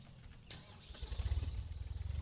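In the Pure Farming 2018 farming game, a small tractor engine starts up and settles into a fast, steady chugging idle, close and moderately loud.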